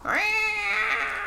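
A person imitates a cat with a single drawn-out meow, rising at the start and then holding steady, loud and close, with no other sound around it.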